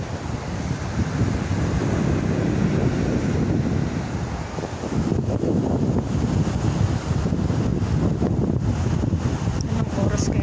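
Wind buffets the microphone while waves wash on a beach by the bay at sunset, a loud continuous roar of surf and gusts with no voices.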